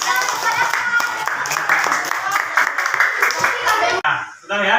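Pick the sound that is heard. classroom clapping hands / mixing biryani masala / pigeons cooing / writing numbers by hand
classroom clapping hands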